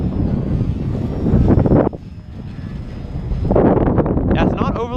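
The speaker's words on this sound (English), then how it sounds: "this plane does fly remarkably well for the amount of damage that was" Repaired FT Scout Maiden RC model airplane in flight outdoors, a buzzing electric motor drone that rises and falls in loudness under heavy wind rumble on the microphone, with someone talking over it.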